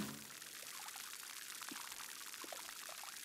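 In the video game Grow: Song of the Evertree, plants are watered with a steady soft pouring, trickling sound that runs continuously and faintly, with a few small chimes on top.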